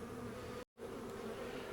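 Close, dense buzzing of honey bees at an opened hive being inspected for mites cuts out for a split second near the middle, then resumes at the same steady level, with no talk.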